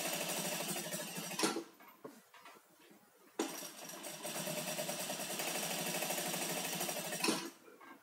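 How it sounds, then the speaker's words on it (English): Industrial lock stitch sewing machine in a sweatshirt factory, loud rapid mechanical chatter in two long bursts separated by a short pause with quieter clatter, no voices. "So a lock stitch machine is probably one of the most important machines in the factory"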